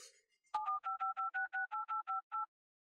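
A telephone number being dialed: after a brief faint noise, eleven crisp two-tone keypad beeps follow in an even, quick rhythm, then silence.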